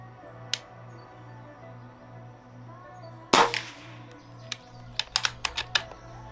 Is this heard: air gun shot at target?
yes